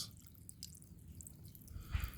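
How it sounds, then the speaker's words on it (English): Excess water drips and trickles out of a vertical soilless planting system, faint and close, with scattered small drops and a slightly louder splash near the end. "the water is going down on its own to the other layers, and the excess water comes out"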